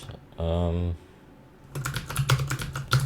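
Computer keyboard typing while writing compiler code, a quick run of clustered keystrokes in the second half after a brief hum, fairly close and moderately loud.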